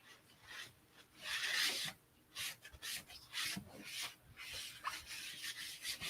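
Alcohol is wiped across a painted poured-paint piece, making soft, uneven rubbing swishes in short strokes, close and fairly quiet, with no speech.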